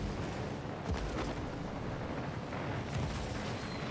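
Bombs dropped from an aircraft carrier's planes striking in World of Warships: Legends, a steady roar of naval-battle noise with two deep booming impacts near one and three seconds.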